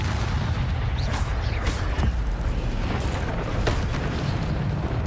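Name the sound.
Incendio and Accio spells cast, from video game Hogwarts Legacy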